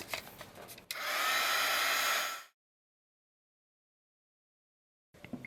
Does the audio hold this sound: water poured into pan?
no